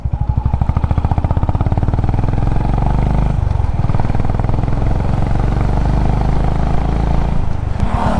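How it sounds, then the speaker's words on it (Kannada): Honda CB350 H'ness single-cylinder motorcycle idling and revving, its exhaust thumping in a loud, close, rapid rhythmic beat that swells and settles over several seconds. "so this is by for the best single cylinder exhaust ಅಂತ ಹೇಳ್ಬೋದು ಈ ಬೈಕ್"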